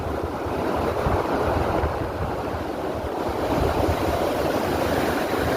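Strong wind roars continuously across the microphone in Newark, Ohio, during a windstorm that brought down trees and knocked out power, a dense, loud, unbroken rush with no talking.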